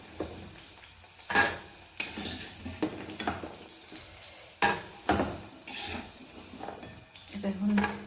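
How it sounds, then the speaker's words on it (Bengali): Fried chicken pakoras being lifted out of a pan of hot oil, with clattering scrapes of a utensil against metal and soft sizzling in between, close by, alongside someone speaking. "এটা এখন তুললাম পকোড়া"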